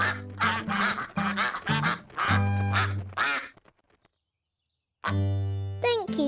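Cartoon ducks quacking together in a pond in a rhythmic, chorus-like series of loud, close calls, then a pause of silence before the quacking resumes.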